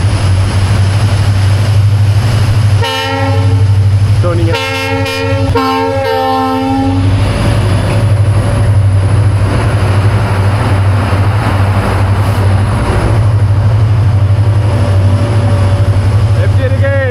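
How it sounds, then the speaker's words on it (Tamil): A train rumbles steadily past close by near Dudhsagar Waterfall in India, its horn blaring in several short bursts early on, with someone speaking briefly over the noise. "இங்கே பாருங்க, ஒரு ட்ரெயின் வருது."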